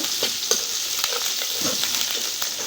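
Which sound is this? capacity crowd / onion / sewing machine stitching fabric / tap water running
onion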